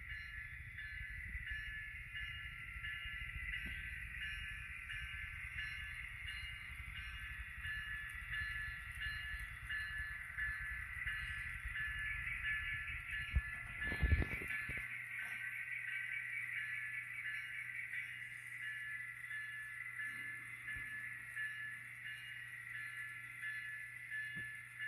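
Kato Union Pacific 1996 model locomotive with an ESU LokSound decoder running through a passing siding, a steady diesel engine drone with a brief horn-like burst midway.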